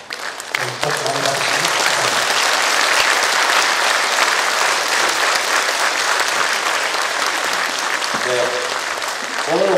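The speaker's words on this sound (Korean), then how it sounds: "오늘 훌륭한 강의를 해주신 명진 선생님께 다시 한번 큰 박수를 부탁드립니다" Sustained applause from a lecture audience at Seongnam City Hall fills nearly ten seconds, with brief speech-like voice fragments at the start and near the end.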